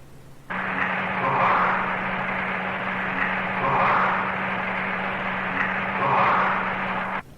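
Electric heater fans humming while warming a building: a steady broadband whir with a low tonal hum, starting abruptly and running continuously with slow periodic swells, no voices.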